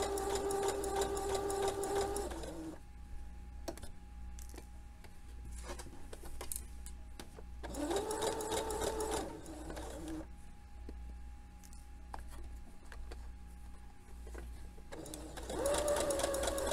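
A sewing machine stitches a crotch seam, running in close, loud whirring bursts with short pauses between runs, where quieter clicks and handling noises come through.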